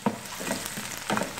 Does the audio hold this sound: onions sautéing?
yes